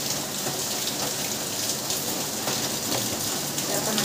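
Monsoon rain pours steadily outside a home window, a dense, even hiss of drops on surfaces that continues without a break, fairly loud and unaccompanied by talk.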